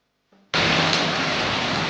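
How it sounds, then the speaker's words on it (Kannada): Heavy rain in Madikeri on arrival comes in suddenly as a loud, dense hiss after a brief quieter moment, then holds steady and close to the end. "ನಾವು ಮಡಿಕೇರಿ ತಲುಪಿದ ಮೇಲೆ ಜೋರಾಗಿ ಮಳೆ ಬಂತು"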